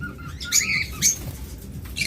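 A few short, shrill squawks and chirps come from lovebirds kept on a rooftop breeding farm, spaced out and close, over a low steady background.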